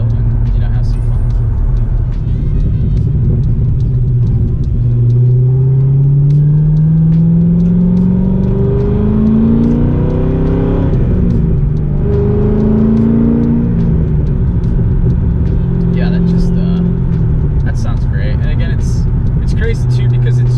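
A Corvette C6 Z06 with aftermarket catback mufflers and otherwise stock exhaust cruises along, its engine note rising and falling through gear changes with a steady rumbling drone close by, a voice talking over it.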